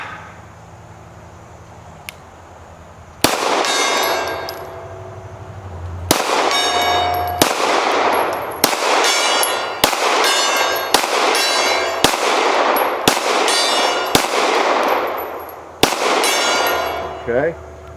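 Revolver shots ring out at a steel gong, about ten sharp, loud cracks spaced a second or two apart, several followed by a bright metallic clang that rings and decays, with a voice talking in between.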